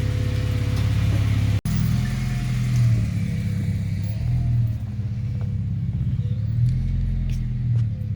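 An Acura RSX Type S on a test lap after a third-gear grind and pop-out repair, its engine droning loud and close with a steady low rumble and shifting pitch as it accelerates, broken by one sharp instant dropout.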